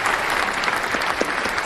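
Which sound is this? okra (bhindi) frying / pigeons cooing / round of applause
round of applause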